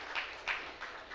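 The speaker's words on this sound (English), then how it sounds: "I'd like you to all give yourselves a round of applause here." Faint applause from an audience at a church service: a steady patter of clapping with a few slightly louder swells, continuing for just over a second.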